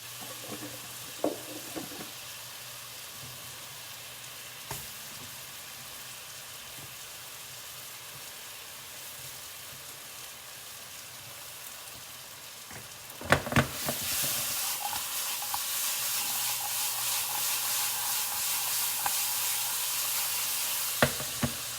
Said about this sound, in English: Let your bananas toast and cook in here on a low heat